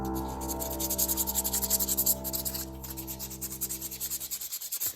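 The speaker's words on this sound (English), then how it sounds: "I'm just going to hand sand it." Hand sanding a wooden wand with 320 grit sandpaper, rhythmic back-and-forth rubbing strokes up close over a faint steady hum, no speech.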